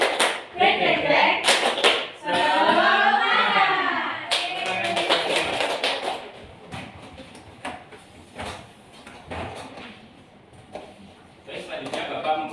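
Schoolchildren in a classroom doing a rhythmic clap-and-chant routine, sharp group claps in bursts mixed with loud chanting voices, then scattered claps and talk as the class settles.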